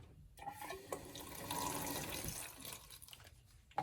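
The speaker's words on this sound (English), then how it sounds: "all you need is a little bit of water in here" Water splashing and trickling from a tap into a small plastic salsa container, a steady filling sound with a few short splashes, close and alone.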